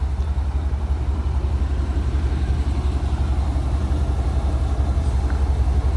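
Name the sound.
GMC Sierra OBS truck engine idling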